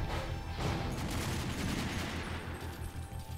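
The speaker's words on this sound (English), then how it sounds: "Slayer says fire one more bullet." Video game gunfire rattles in a dense, loud, continuous burst of rapid shots lasting about three seconds, with no pauses between rounds.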